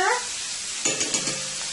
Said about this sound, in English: Okay, so to the pan, let's add a little bit of butter.